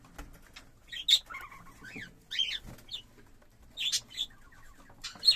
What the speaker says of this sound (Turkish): Yeme düşmüş şu anda 5 tane sultan yavrumuz mevcut.